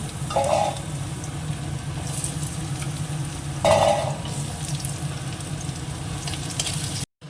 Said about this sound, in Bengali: এই যে আলুটা ভেজে তুলে নিলাম